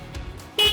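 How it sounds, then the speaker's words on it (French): A forklift horn gives a short, sharp toot at the very end, following a quiet low hum from the idling truck. "Nous allons vérifier si le klaxon il fonctionne"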